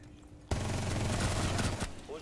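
Loud burst of automatic gunfire in Rainbow Six Siege, starting abruptly and rattling continuously for over a second before cutting off, with faint background sound on either side.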